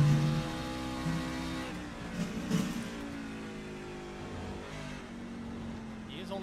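A race truck at Watkins Glen revs its engine as it grabs a single gear, a steady tonal drone heard under talk, with a brief lift midway.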